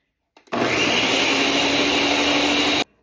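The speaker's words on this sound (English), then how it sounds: "And so we are going to blender" A blender whirs steadily for about two seconds, mixing sugar and other pancake batter ingredients for a Brazilian panqueca, starting and stopping abruptly at close range.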